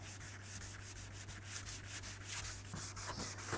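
Classic car paint being wet sanded by hand with 400 grit sandpaper, a steady rhythmic rubbing and scrubbing of paper across the panel, close and continuous with no talk.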